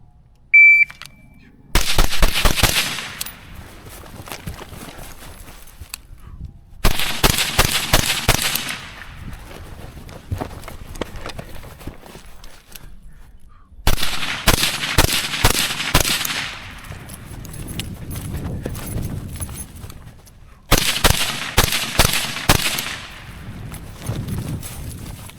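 Rifle fired at a range with an Arken Optics 1-8 EP8 LPVO mounted, five rounds per string: four loud bursts of rapid, sharp cracks separated by short pauses, with faint voices in the gaps.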